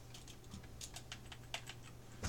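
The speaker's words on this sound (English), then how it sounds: "Hopefully my keyboard's working." Quiet clicks of typing on a computer keyboard, a loose run of light keystrokes with a low steady hum beneath, close and faint.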